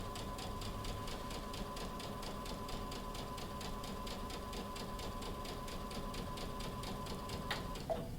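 A sewing machine lock stitches fabric for a bunny bag, a steady, moderately close needle rattle running continuously throughout, with a faint click near the end and no talking.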